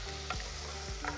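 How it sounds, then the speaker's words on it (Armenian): Onion sizzling in a pan as the first step of a broth for cheese soup, a close, steady frying crackle with a couple of soft stirring scrapes. "Հիմա մենք արգանակը ստանալու համար տապակում ենք սոխը"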